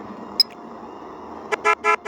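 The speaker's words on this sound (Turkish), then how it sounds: "kornamız da var" A car horn in a Turkish-made Tofaş mobile driving game gives several short, quick toots near the end, over a faint steady engine hum.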